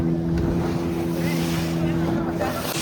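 A motorboat drives across the open sea off Mangalore, its engine a steady, loud, close drone mixed with rushing wind buffeting the microphone and splashing water, with no pauses.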